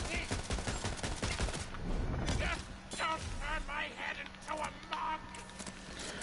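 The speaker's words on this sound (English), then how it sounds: "someone's still shooting me" Enemy gunfire in Tiny Tina's Wonderlands, clusters of quick cracking shots and rattling bursts in a busy game fight, with squawking creature cries and someone talking over the action.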